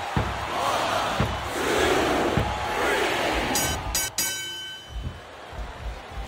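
An arena crowd roars in the wrestling game WWE SmackDown vs. Raw 2007, a broad cheering wash punctuated by repeated heavy thuds of bodies hitting the mat and a couple of sharp metallic slams.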